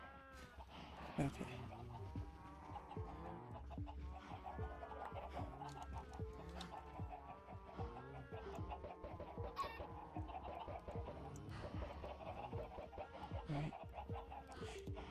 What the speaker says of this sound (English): Then this entity cramming chicken farm just for food.